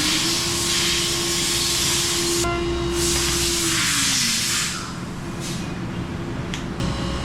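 Tack welding on metal parts for a Toyota Hilux drag build, a loud steady crackling hiss lasting several seconds with a brief steady tone, with no talking.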